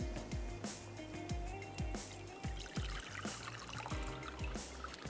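Water is poured off cooked mushrooms into a bowl, a soft, steady trickle with repeated light splashes and knocks from the pan, fairly quiet, with no talking.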